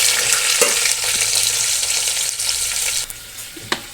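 Steady, crackling sizzle of two large onions frying in hot oil for chicken biryani, close and fairly loud, with a few soft clinks of stirring near the end.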